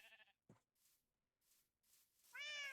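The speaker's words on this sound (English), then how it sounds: "Oh, no, that's my cat." A house cat meows at a moderate level, a short tonal cry at the start and a clearer, louder meow at the end, with soft breathy gaps between.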